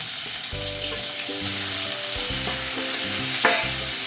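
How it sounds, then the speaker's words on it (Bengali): Chopped onion and tomato fry in a pan for a fish-head murighonto, a steady close sizzle with occasional stirring scrapes and a brief clatter near the end, no voices. "পেঁয়াজ কুচিটা যখন ভাজা এই ভাজা ভাজা হয়ে যাচ্ছে এইবার এর মধ্যে আমি কিছু টমেটো দিয়ে দিলাম"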